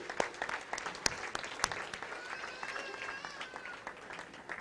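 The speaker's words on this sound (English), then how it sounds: "I'd like to give them a round of applause" Scattered applause at a rocket club banquet: a modest round of individual claps, some sharper and nearer than others, with faint voices and murmuring mixed in throughout.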